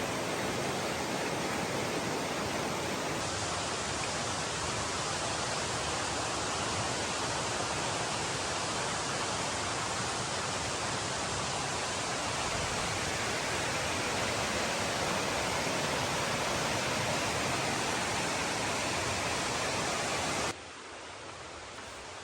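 Deep Creek in the Great Smoky Mountains, deep and fast flowing, gives a continuous loud rushing roar of water close by, steady throughout with no voices.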